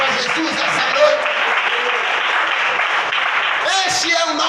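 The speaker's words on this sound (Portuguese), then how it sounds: "Palmas para Jesus essa noite." A church congregation claps together during an evening service, loud and continuous dense clapping with voices mixed in and a brief vocal burst near the end.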